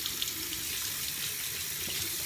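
Tap water runs steadily into a sink while hands are wetted, a continuous bright hiss and splash at moderate volume with small irregular spatters and no talking.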